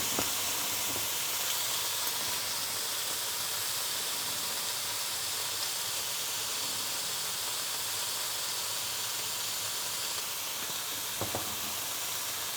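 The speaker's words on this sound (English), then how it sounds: "Let's see if I can get a sear on these that I like a little better." Venison strip sirloin sears in a hot skillet, giving a steady, close, loud sizzle and hiss that holds unbroken throughout, with a couple of faint clicks.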